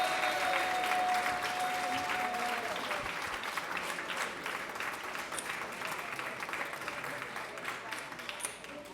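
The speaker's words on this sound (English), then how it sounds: "Let's give them one more round of applause." An audience applauds steadily after a performance at a music event, a dense wash of many hands clapping at moderate volume that slowly thins toward the end.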